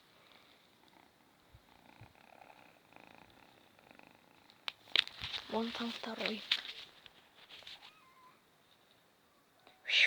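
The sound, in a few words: kitten purring and meowing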